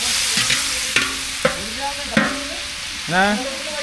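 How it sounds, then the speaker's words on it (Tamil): Onions, tomatoes and masala sauté in a pan, a soft continuous sizzle broken by a few sharp spatula scrapes and stirring strokes close by. "வெங்காயம் தக்காளி எல்லாமே நல்லா வதங்கிட்டோம் இது கூட மசாலா சேர்த்துக்கலாம்"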